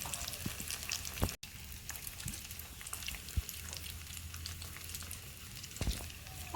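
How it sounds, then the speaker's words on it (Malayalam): Appam bubbling and frying in hot coconut oil, a steady soft sizzle with scattered crackles and a few sharper pops, heard close and alone. "അപ്പെല്ലാം എണ്ണയിൽ പൊന്തി വരുന്നുണ്ട്."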